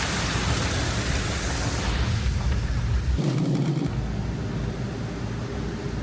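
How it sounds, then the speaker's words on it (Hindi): The fast-flowing Ganga in the mountains near Yamunotri roars as a loud, steady wash of broadband water noise close by, with a brief shift in tone midway and no talk. "अभी यहाँ पे ना गंगा जी का शोर थोड़ा तेज हो गया है, बहुत, यानी कि बहाव बहुत तेज है"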